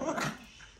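A dog gives a short bark with a low growl close by, one brief burst that fades into quiet room noise.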